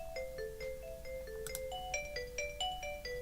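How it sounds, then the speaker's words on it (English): A pure vibraphone with no effects plays a soft, gently ringing melodic line of single struck notes at a moderate pace, quiet and close, with light hiss beneath. "This is the pure vibraphone sound."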